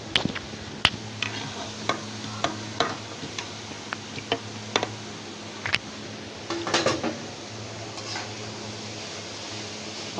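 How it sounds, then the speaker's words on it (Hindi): Chicken macaroni with capsicum frying in a pan, a steady sizzle under repeated spoon scrapes and clinks against the pan, close and fairly busy for about ten seconds, with no voices. "अब अच्छी तरह से इसको भून लेते हैं।"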